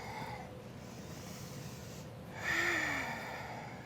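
A soft exhale during a yoga vinyasa flow, a quiet, breathy rush that swells briefly near the end over a faint room hush.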